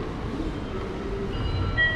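A low rumble of a train rolling into a Japanese station, with thin, high brake squeals rising near the end.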